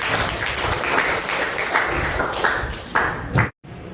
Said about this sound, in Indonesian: Mari kita kasih applause dulu.